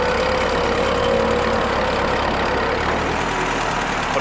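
The engine of a blue Ford tractor, worn and burning oil, runs at a steady loud idle-like drone that is close and continuous, with no talk.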